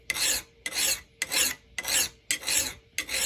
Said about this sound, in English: And then we can start filing away at the edge here.